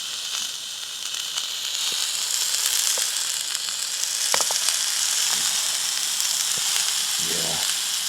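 Food sizzling and simmering in a pan on a Trangia camping stove, a steady close frying hiss that runs the whole time with a few faint clicks and a brief murmur near the end.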